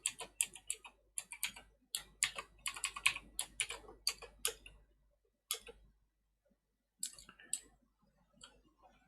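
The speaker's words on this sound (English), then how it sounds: "Then finally type in your Wi-Fi password." A Wi-Fi password is typed on a computer keyboard during an Arch Linux install: close, crisp key clicks in quick bursts with short pauses between, no voices.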